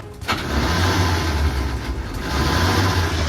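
A bus engine, on a bus that had flipped over and had resisted starting for a long time, cranks briefly, catches and settles into a loud, steady low rumble that swells near the end.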